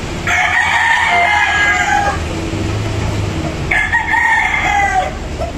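A Sweater Boston Battle Cross bullstag gamecock crows loudly and close at a poultry expo, two long strained crows separated by a short pause, with a busy hall murmuring behind.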